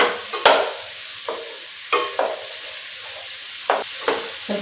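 Tender ridge gourd sautéing in a little oil, a quiet sizzle punctuated by several distinct spatula scrapes and knocks against the pan at irregular intervals, close up with no speech.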